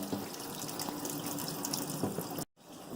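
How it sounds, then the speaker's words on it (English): Water from a kitchen tap runs steadily through a removed dishwasher sprayer arm being cleaned out. The flow is close and continuous, then cuts off briefly near the end before resuming. "We're going to get our tap and just run water through this and see if we can clean it out"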